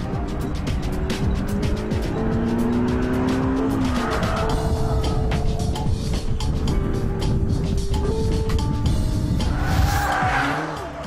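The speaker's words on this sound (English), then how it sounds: "Out on the track, the Clio handles surprisingly well." A front-wheel-drive Renault Clio laps a race track, a loud continuous engine drone shifting in pitch with tire squeal, close and without speech.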